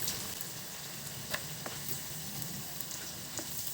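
Tofu frying in a pan, a steady close hiss of sizzling oil with scattered small pops and crackles, no talk.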